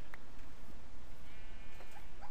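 Sheep in the Minecraft video game give a couple of faint, short bleats over a quiet game background.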